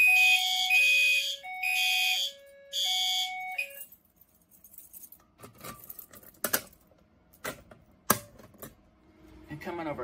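A Fire-Lite BC12L fire alarm device sounding during a system test, giving three loud two-tone warbling blasts in quick succession that then stop, followed by quieter scattered clicks and handling knocks.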